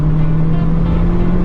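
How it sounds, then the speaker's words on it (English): Smart ForTwo 450 engine revving hard up to its rev limiter, a steady loud drone with a strong held tone that stays constant throughout, close and alone with no talk. "It gets to that rev limiter quick."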